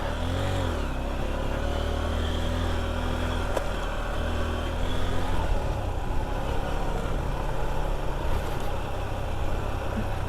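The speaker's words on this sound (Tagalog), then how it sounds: "Parang namamatay yung makina ko." A vehicle engine on a mountain backroad ride between Imugan and Kayapa runs with an uneven, labouring drone near Sitio Convento, sounding as if about to stall; it is close and continuous with no talk.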